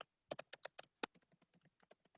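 Quick bursts of keystrokes on a computer keyboard, crisp close clicks in an uneven run, louder at first and then lighter, with no talking.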